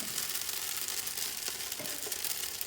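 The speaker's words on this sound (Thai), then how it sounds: "พอเติมกุ้งสดลงไปปั๊บ นะคะไม่ต้องนานนะคะแล้วก็ผัดไปเรื่อย ๆ" Fresh shrimp stir-fried in a pan for a Thai glass noodle salad, giving a steady, faint sizzle with a few soft stirring scrapes.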